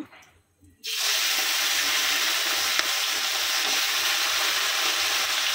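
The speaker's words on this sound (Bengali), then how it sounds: "মাংসগুলো দিয়ে ভালোভাবে নেড়ে নেব" Chicken pieces hit a hot pan after a brief near-silence, bursting into loud, continuous sizzling and frying with stirring, one sharp clink partway through, no talk.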